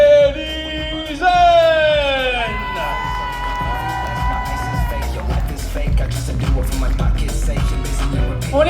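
A crowd at a cosplay contest cheers and applauds for a cosplayer, with a loud, sustained wash of clapping and shouts rising around an announcer's amplified voice.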